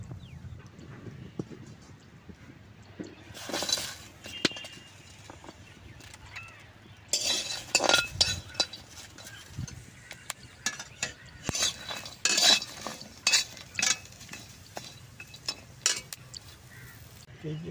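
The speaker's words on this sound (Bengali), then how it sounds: "আমি শুকনা করাইতে কটা কাঁচামরিচ আর রসুন বাইজা নেবো" Green chillies and garlic dry-roasting in a hot pan in a home kitchen, with repeated stirring scrapes and clinks of a utensil against the pan, some louder bursts, amid low background noise and occasional voices.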